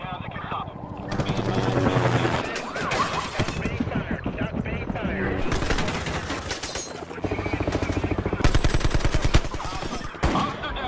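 Bursts of rapid automatic gunfire crackle in long volleys, loud and close, with a heavy mechanical drone underneath.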